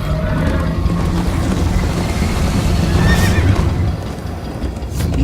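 A horse neighs and whinnies amid galloping hoofbeats during a chase in the Minecraft Story Mode video game, a loud, continuous game soundtrack with the whinny rising near the middle.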